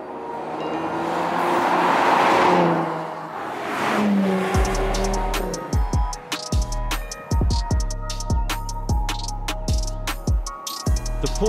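2020 Porsche Macan Turbo driving along, road and wind roar swelling at first, then the engine accelerating hard through a series of rapid gear changes, loud and close.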